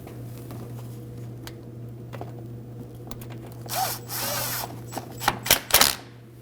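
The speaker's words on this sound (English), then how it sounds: "We'll reinstall our 10mm screw." A power tool drives a 10mm screw back into the fender area of a 2013-2015 Subaru XV Crosstrek: quiet background hum, then short bursts of whirring and ratcheting near the end, increasing in loudness.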